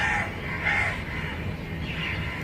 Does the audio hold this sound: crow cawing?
yes